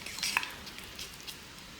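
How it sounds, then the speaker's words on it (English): Car body filler that has separated, with the oils come out, is stirred for a quick mix, giving soft, faint wet squishing and scraping strokes with no voices. "Just give that a quick mix."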